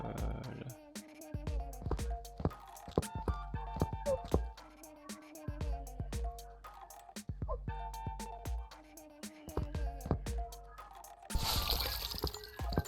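Water dripping and trickling toward a floor drain in Car Detailing Simulator, heard as irregular clicky drips and splashes repeating throughout, with a brief louder rush of draining water near the end; no talk over it.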